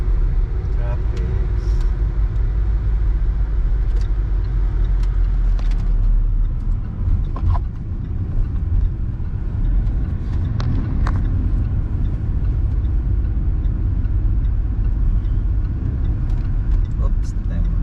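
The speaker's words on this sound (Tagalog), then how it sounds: "Traffic." Steady road traffic on a New Zealand road, cars and heavier vehicles rumbling close by as a continuous loud drone throughout.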